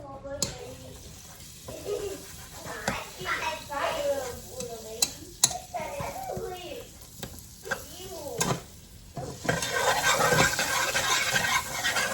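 Two tablespoons of butter sizzle in a pan with salt and garlic powder as it is stirred, a steady frying crackle with scraping clatters throughout and a voice-like murmur mixed in.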